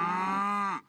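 A single cow gives one long, loud, steady moo of just under a second that fades out at the end, heard alone. The cow is one of several that had wandered off for five days before returning home.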